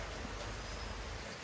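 Rain on a rainy day outside a gym, a steady, soft hiss of drops on surfaces, even and continuous with no distinct hits, fairly quiet and with no talking.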